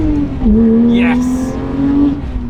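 A sports car with a BBI exhaust revs hard and loud, the engine note climbing and holding steady for a couple of seconds, with a brief tire-like squeal near the middle.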